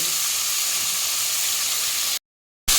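Pieces of ash gourd hit a hot pan and sizzle with a loud, bright, continuous hiss, cut off briefly by a short gap before resuming.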